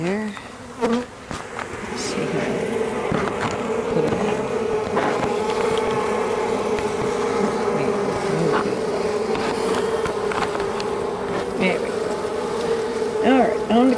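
Bees buzz loudly and continuously up close, a dense droning hum with individual insects whizzing past, and a voice talks briefly in the background.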